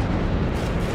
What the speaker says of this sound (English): Bombing.